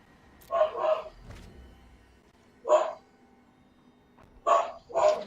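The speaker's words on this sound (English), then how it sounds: "There might be howling. My dogs are protesting." Dogs barking indoors, a few loud, close barks in short bursts: a double bark, then a single one, then another double bark, with quiet gaps between.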